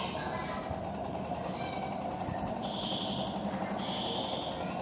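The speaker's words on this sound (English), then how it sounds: "Here the motor is running." A small BLDC motor with a toroidal stator coil runs on a 12-volt supply, giving a faint, steady electric hum with a thin high whine and no voices.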